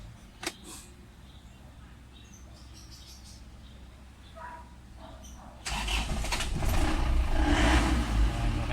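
Isuzu Crosswind engine with a hard-start condition cranking and catching, then settling into a louder steady idle, with faint bird chirps outside before the engine fires.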